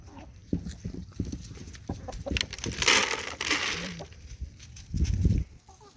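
Chickens clucking among other farm animals at a petting farm where kids feed a donkey, llama and alpaca; intermittent close clucks and rustling over outdoor background noise.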